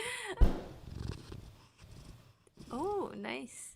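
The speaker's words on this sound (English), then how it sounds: "She's very purry" A pet cat purring close to a microphone, a soft low rumble running under a voice and a few cat vocalizations.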